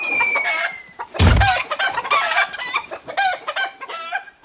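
Chickens cluck loudly and repeatedly in a busy, agitated chorus, with a crowing call mixed in and a thump early on.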